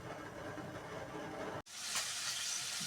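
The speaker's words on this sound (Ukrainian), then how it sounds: "М'ясо смажиться." Steady sizzling and hissing of pork frying in a pan for buckwheat pilaf, interrupted by a brief cut before the sizzle resumes louder.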